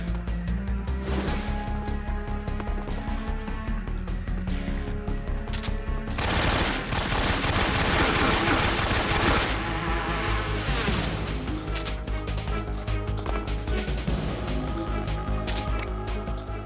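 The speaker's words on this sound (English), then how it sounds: "Tommy gun!" A Tommy gun fires in Metal Gear Solid 3 Snake Eater, loud rapid automatic bursts running almost continuously, with a dense heavier stretch of shooting and blasts in the middle, over game music.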